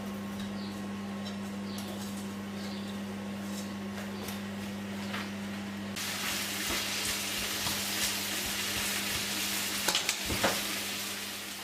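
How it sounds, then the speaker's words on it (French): Onions frying in melted butter in a pan, a steady soft sizzle with a low hum throughout that swells louder and brighter partway through, with occasional stirring clatters near the end. "Je vais maintenant faire gratiner mes oignons dans le beurre."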